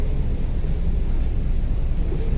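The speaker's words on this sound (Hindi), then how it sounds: "गाइस मेट्रो में बैठने जा रहे हैं हम पहली बार।" Steady low rumble of a Delhi metro train in motion, a dense continuous drone heard from inside the carriage with no voices.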